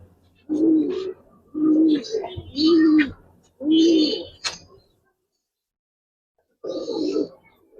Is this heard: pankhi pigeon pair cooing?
yes